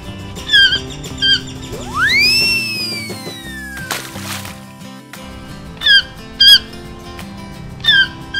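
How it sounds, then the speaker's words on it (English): Cartoon toucan calls: repeated short high squawks and squeaks in pairs, with a long rising and falling whistle-like swoop, over a bright, busy musical backdrop. "Toucan."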